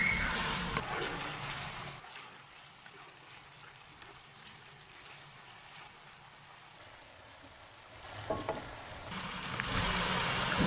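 Chopped onion frying with meat in a pan gives a soft, steady sizzle that stays quiet through the middle and grows louder and fuller toward the end, with occasional light stirring noises.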